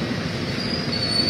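A train rolls past a railway level crossing with a steady low rumble of wheels on rails and a thin high squeal, continuous and close throughout the short stretch, with no voices.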